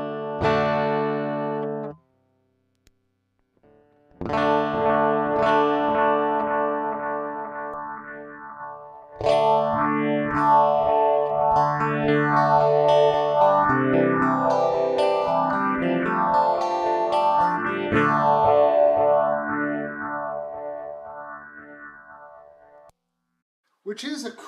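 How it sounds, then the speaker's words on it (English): An electric guitar runs through a delay and then a phaser pedal, playing sustained notes and repeating phrases with sweeping, swirling tonal motion and echoing trails, after a brief pause near the start. "If we were to put the phaser right after the delay, we don't really get a modulated sound."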